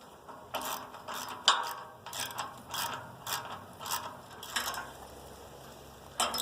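A ratchet wrench clicks in quick repeated bursts while bolts are tightened on the frame of a Wood-Mizer LX-25 sawmill during assembly, with bright metallic ticks in short rhythmic runs, near and moderately quiet.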